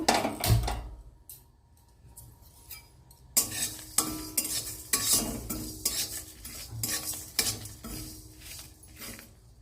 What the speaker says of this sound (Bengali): এবারে আমি এতে ওয়ান টিস্পুন জিরে ওয়ান টিস্পুন ধনে আর শুকনো লঙ্কা দিয়ে ভালো করে ভেজে নেব মশলাটা